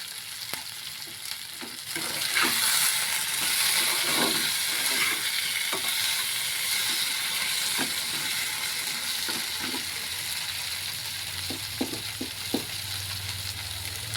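Taro pieces fry in a pan with salt and turmeric for a fish curry, a steady close sizzle with scattered clinks and scrapes of stirring throughout.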